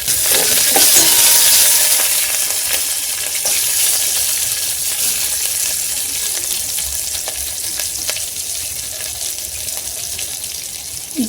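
Curry leaves and green chilies sizzle in hot oil in a pan, a loud, close, steady hiss that gradually settles, with a few faint clinks and no voices.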